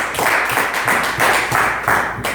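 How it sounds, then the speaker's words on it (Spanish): A church congregation claps together in a steady, rhythmic beat, loud and close, filling the space with continuous applause. "Den un aplauso a nuestra Jesús."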